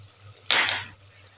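Chillies, cumin and mixed spices frying in a pot are stirred with one brief, bright scraping sizzle over a low steady hum.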